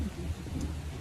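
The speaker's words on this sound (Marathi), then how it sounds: "अतिशय जोरदार पाऊस आहे" Very heavy rain pours in Haridwar near the Manasa Devi hill temple, a steady dense roar with low rumbling underneath, continuous and close.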